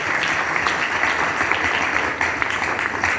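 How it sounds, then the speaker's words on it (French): An audience at a university thesis defense applauding the students, with continuous, loud, dense clapping from a crowd that holds steady from start to finish. "Acclamez très fort pour les étudiants."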